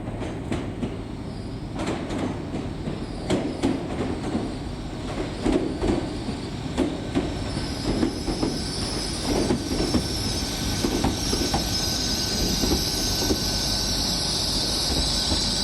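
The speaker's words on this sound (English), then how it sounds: "just arriving into the station now is 1 Whiskey 23, which will be the 5 o'clock service from Morton in Marsh to Great Malvern, operated by 800 301" A Great Western Railway class 800 train, unit 800 301, pulls into Worcester Shrub Hill station, wheels clicking rhythmically over rail joints under a steady rumble, with rising high squeal from the wheels and brakes toward the end.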